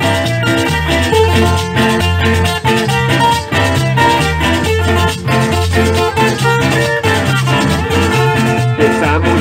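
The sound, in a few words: carranga band performing live music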